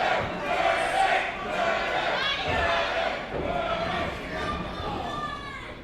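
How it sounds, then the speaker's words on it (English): Wrestling crowd at London Music Hall at a steel cage championship match, loud rhythmic chanting and yelling from many voices filling the hall, steady throughout. "the crowd chanting for murder."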